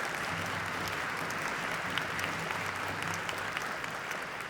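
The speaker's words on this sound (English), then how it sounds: "Let's have a round of applause for them." An audience at a Purdue university band concert applauds in a dense, even clatter of many hands, held steady for several seconds at a moderate distance.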